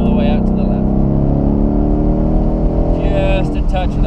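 Car accelerating hard around a racetrack at a driving school, engine note climbing steadily and loud up close with strong harmonics, while an instructor talks over it.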